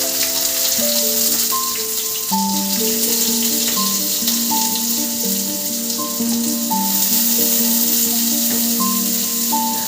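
Onion pieces fry in hot oil in a kadai, a continuous bright sizzle that runs under loud tuneful background music throughout.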